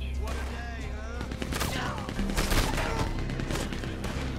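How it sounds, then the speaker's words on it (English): Rapid, dense gunfire from a minigun in the online game Red Dead Redemption 2 Online, a loud continuous rattling barrage lasting throughout, with a voice talking over it. "Oh, dude, they got a minigun."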